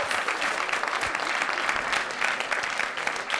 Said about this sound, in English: let's give another hearty round of applause for all 8 teams who did such a good